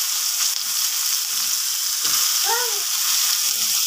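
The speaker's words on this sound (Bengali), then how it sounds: "তো প্রথমে পেঁয়াজগুলো ভেজে নিচ্ছি।" Onions fry in leftover fish-frying oil, giving a steady, close sizzle and hiss throughout, with a brief faint tonal sound partway through.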